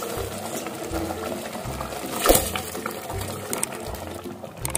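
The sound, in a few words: draining water and adding soaked rice to pot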